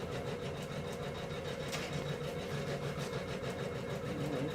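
An embroidery machine stitches out a design onto stabilizer with a steady, fast mechanical chatter and soft rhythmic whir, faint and unbroken with no voices.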